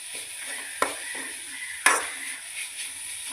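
Winged bean thoran being stirred in a pan, two sharp scraping knocks of a spatula against the pan over a faint continuous sizzle, close and fairly quiet.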